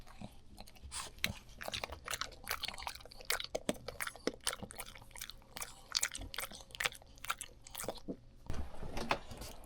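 Crisp crunching and biting into the egg-washed crust of a freshly baked sourdough brioche, a rapid series of close, sharp crackles with quieter chewing between, no talking.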